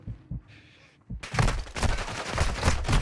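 Gunfire in the Call of Duty DMZ video game, starting with a couple of faint thumps and then breaking into a dense, loud burst of rapid shots lasting a couple of seconds.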